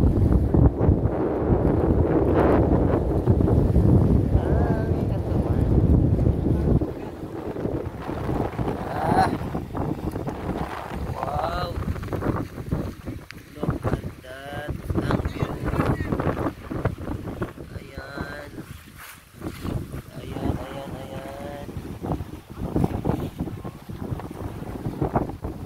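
Wind gusts roar across the microphone at sea, heavy at first then easing, with boat noise and people talking intermittently.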